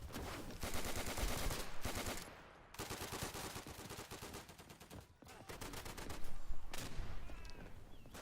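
Gunfire in the World War II shooter game Day of Infamy, with dense bursts of rapid automatic fire broken by short pauses, loud and close and continuous across the stretch with no voices.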